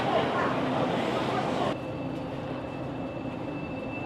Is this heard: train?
yes